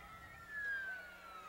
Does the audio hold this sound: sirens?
yes